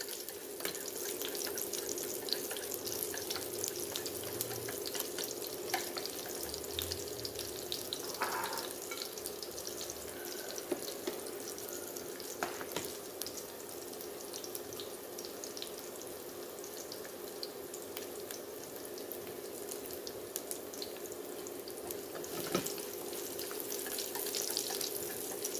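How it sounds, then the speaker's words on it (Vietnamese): Shallots, garlic and chili frying in hot oil in a pan, a steady, close crackling sizzle with a watery hiss that runs the whole time, with occasional small pops and scrapes. "Bây giờ dầu nóng mình cho hành tỏi ớt vào."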